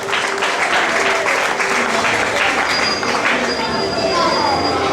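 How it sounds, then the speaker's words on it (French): Audience applause at a French Vincentian gathering, dense steady clapping that fills the whole stretch with a constant wash, some faint tonal ringing and murmuring mixed in. "on peut les applaudir"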